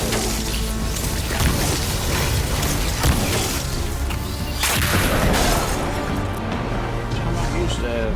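In the video game Destiny 2, a bow round detonates amid dense gameplay noise, a heavy boom and crashing bursts layered over continuous mechanical clatter while someone talks throughout.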